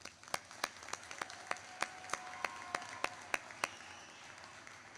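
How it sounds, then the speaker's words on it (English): Sparse clapping at a SkillsUSA opening ceremony, a dozen or so distinct claps in an irregular rhythm, sharp and fairly close, faint overall with a quiet room behind and no talking. "Give yourself a round of applause."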